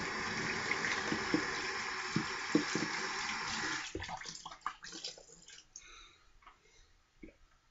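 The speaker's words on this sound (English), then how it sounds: "We'll do a cold water rinse." Tap water runs steadily into a sink for a cold rinse after a close two-pass shave, then cuts off at about four seconds, leaving splashing and dripping as the face is rinsed by hand, close and moderately loud.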